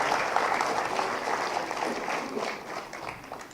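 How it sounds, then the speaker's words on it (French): An audience at a New Year's civic ceremony in Granges applauds a judo club president receiving a medal, a dense, sustained burst of clapping that gradually thins and fades over a few seconds. "oui, vous pouvez l'applaudir"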